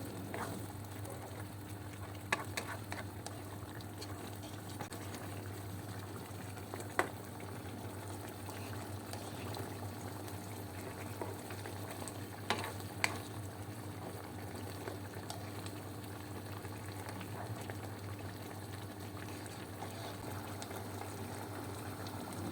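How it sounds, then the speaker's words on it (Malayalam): Chicken curry simmering in a pot with a cup of added water, a faint, steady low bubbling and burbling that continues for a long stretch, with a few soft knocks and no speech. "അപ്പോൾ ഇവിടെ നിന്ന് തിളയ്ക്കുന്നുണ്ട് ചിക്കൻ കറി."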